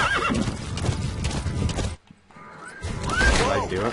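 A horse in the Metal Gear Solid 5 video game whinnies loudly over clip-clopping hooves and game sounds, with a brief near-silent gap before the neighing and hoofbeats return.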